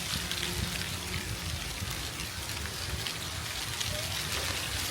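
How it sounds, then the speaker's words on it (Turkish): Rain falls steadily in a soft, continuous patter, close and even, with no talking. "Susayım da yağmurun sesini dinleyin değil mi?"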